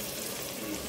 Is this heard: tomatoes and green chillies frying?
yes